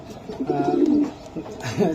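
Young racer pigeons at a loft coo in soft, low, rolling bursts close by, one after another across two seconds, with faint bird chirps in the background.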